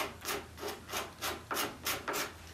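A gooseneck scraper rasps across maple wood in about seven steady strokes, each a crisp, close scraping swipe with short pauses between.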